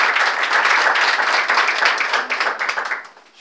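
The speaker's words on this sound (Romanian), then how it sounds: "Vă rog să-i aplaudați pe ei" An audience at a community event for children who lost a parent breaks into dense, steady applause that holds for a few seconds, then thins and fades toward the end.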